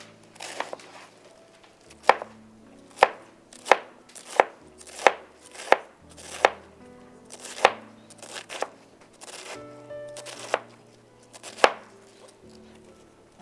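A knife shreds cabbage on a cutting board for chicken and cabbage soup, a series of crisp, close chops at an uneven pace, some in quick runs, with no talk.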